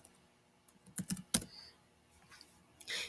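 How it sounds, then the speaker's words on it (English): A few quiet keystrokes on a computer keyboard, sparse clicks and a short cluster of taps in an otherwise quiet room. "I'm just going to type in watercolor."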